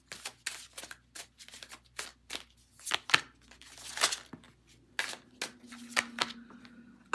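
Tarot cards being shuffled by hand at close range, a quick run of crisp riffles, slaps and snaps in uneven bursts, with no talking.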